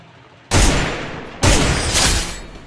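Gunfire in a shooting video game, two loud, close bursts of rapid shots about a second apart, each a dense crackling volley that slowly fades.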